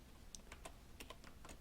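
Quiet, steady typing on a computer keyboard, about a dozen light keystrokes tapped in an even rhythm over a soft background hiss.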